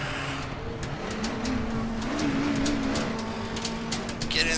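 Race car engine in the RaceRoom Racing Experience game, a steady droning motor whose pitch wavers and climbs through a gear change, with faint clicks and tire noise, no clear talk.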